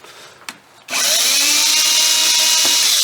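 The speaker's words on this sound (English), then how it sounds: "Another tool you can use is a small screwdriver, power screwdriver" A small power screwdriver removes the float bowl screws from a Polaris carburetor, a faint click and then a loud, close, steady whirring motor that runs continuously.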